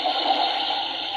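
A toilet flush plays as a steady, loud rush of water lasting the whole moment, broad and continuous with no talk over it.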